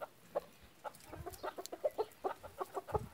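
A rooster used as a decoy chicken clucks in short, irregular bursts, moderately close, with quiet background noise between calls.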